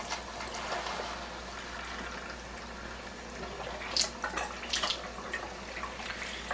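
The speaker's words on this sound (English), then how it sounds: "I'm just going to go ahead and run water through it to clear out any calcium that may be floating inside the machine" Water running steadily through a Kangen SD501 water ionizer to flush out calcium during cleaning, a soft continuous hiss and trickle with a few brief splashy spikes, fairly quiet and without talk.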